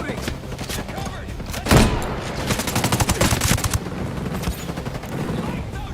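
Rapid automatic gunfire in the military shooter Ghost Recon Breakpoint, with dense, sustained bursts and one heavier blast near the start, all loud and close, with voices shouting in the mix.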